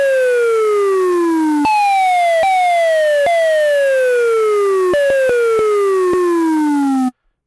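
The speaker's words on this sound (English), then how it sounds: "Siren." A groovebox's synthesized siren tone sweeps downward again and again, loud and clear, each falling wail abruptly resetting higher before cutting off.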